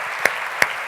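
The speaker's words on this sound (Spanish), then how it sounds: "Eso merece unas palmas a nuestro Dios por su bendita palabra." Church congregation clapping hands in a steady wash of applause, with a couple of sharp, loud individual claps standing out close by.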